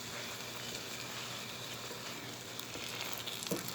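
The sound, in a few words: vegetables and scrambled egg frying in a pan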